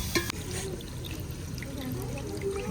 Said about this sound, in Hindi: दाल को अच्छे तरीके से धोया जा रहा है।